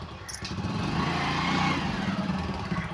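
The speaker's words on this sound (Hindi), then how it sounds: "और यहाँ पे हमने बाइक कर लिया स्टार्ट।" A motorcycle idles and revs just after being started, a rough, fluttering mid-range engine note that rises and holds close by. A brief clack opens the sound, and no one speaks.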